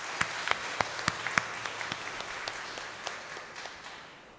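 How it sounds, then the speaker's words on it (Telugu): A church congregation at a Christmas novena mass claps together, a run of sharp, fairly distinct handclaps that thin out and fade over a few seconds, heard at a moderate distance. "దేవుడి వాక్యం మంచిగా వింటున్నాం అనే వాళ్ళందరూ చప్పట్లు కొట్టండి."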